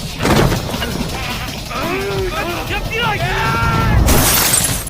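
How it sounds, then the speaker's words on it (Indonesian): Car window glass smashes during a police fight scene in a detective film, with loud crashing bursts at the start and again near the end, and voices and strained shouting in between. "Kakak Sol pun terlibat baku hantam dengan 2 polisi yang membuat kepalanya kopior dihantam kaca mobil"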